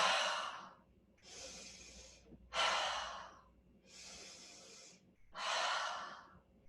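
Slow, deep yoga breaths drawn in and released in turn, five long airy rushes separated by short pauses, close and clear with no talking.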